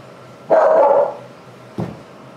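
A single loud dog bark rings out nearby, followed by a shorter, softer yip a moment later.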